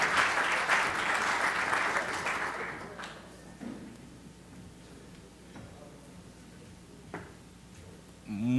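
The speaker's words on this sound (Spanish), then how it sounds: "muchas gracias a todos por sus aplausos y el reconocimiento" Audience applause at a passenger transport congress, loud and dense for about three seconds before thinning out into scattered claps and a few sharp taps, leaving a quiet room.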